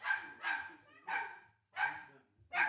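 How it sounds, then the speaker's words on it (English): A household dog barks at home in four or five sharp, evenly spaced barks, each a short burst, heard at moderate distance with quiet gaps between them. "and you can hear the dog barking too"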